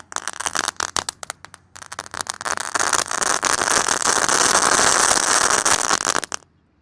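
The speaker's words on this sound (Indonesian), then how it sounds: "Lanjut di sini ada mercon telur dino pretek. Kita nyalakan 3 pak sekaligus." Three packs of Indonesian dino egg firecrackers (mercon telur dino pretek) go off together: first a string of sharp separate pops, then a dense, loud, continuous crackling barrage that cuts off abruptly near the end.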